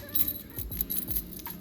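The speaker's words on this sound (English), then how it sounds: "I'm picking up keys for a new office." Metal office keys jangle in bursts as they are picked up and handled, light clinking rattles close by with a few soft knocks.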